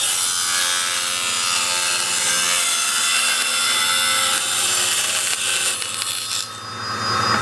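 A power saw with its guard lowered cuts through wood, a steady loud buzzing drone with a grinding rasp that rises as the blade bites near the end, without any talking.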